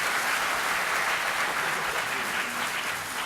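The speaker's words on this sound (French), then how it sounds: "On peut applaudir Guillaume." Steady audience applause for Guillaume at a French talk, a dense continuous wash of many hands clapping that holds at an even level from start to finish, with faint murmuring beneath it.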